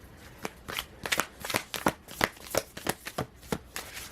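A tarot deck is shuffled and handled, with a steady run of close papery riffles, flicks and card slaps and no talking.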